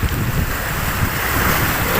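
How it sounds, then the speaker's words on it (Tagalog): Big ocean waves and surf break and roar near the shore on the mainland at Binangonan, loud and continuous with heavy wind noise buffeting the microphone. "Yan, lalaki ng alon dito ngayon."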